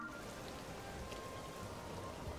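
Steady rainfall pattering across the landscape in The Legend of Zelda: Tears of the Kingdom, a dense, even hiss of drops at constant, moderately quiet level with no voices.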